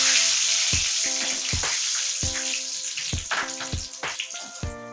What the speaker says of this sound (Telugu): ఇప్పుడు కరివేపాకు మనం ఫ్రై చేసుకుందాం.